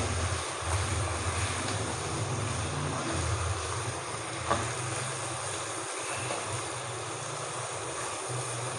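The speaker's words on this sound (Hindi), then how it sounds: "मटन को अच्छी तरह घी में भून लें।" Mutton for a Lahori mutton karahi fries in ghee with a dense, steady sizzle and crackle that stays loud and unbroken throughout, with no voices.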